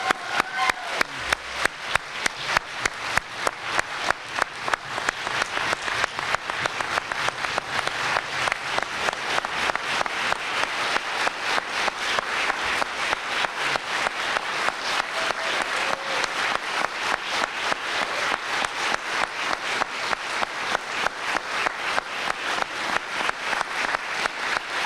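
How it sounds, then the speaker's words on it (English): Audience applause for three distinguished teachers at a 2011 teaching award ceremony: sustained, dense clapping from a large crowd, steady and loud throughout with no voices. "Can we get another round of applause for our three distinguished teachers?"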